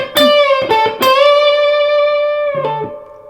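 Electric guitar with effects plays a lead lick at full speed: a few sharp picked notes, then a long sustained, bent note with vibrato that rings and fades, alone and up close.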